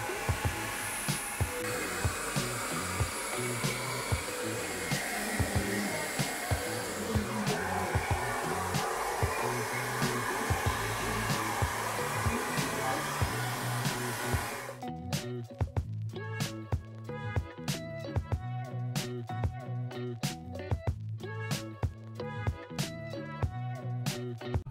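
A hair dryer blows hair into waves at a neighbourhood hairdresser in Adana, a steady whooshing drone for about fifteen seconds, then cut off abruptly and followed by music with sharp rhythmic beats.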